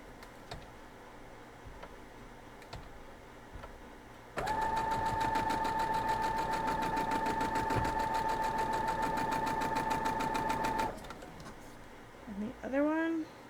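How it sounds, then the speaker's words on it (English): A sewing machine stitches two quilt block pieces together, whirring in one steady, loud, rapid run of several seconds, with quieter handling sounds before and after. "So now we're just going to sew these two together."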